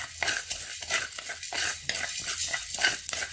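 Coriander and cumin seeds dry-roast in a pan for sambar mix, stirred briskly with a metal spoon, making repeated dry rattling scrapes and light clinks in quick rhythm, close and clear.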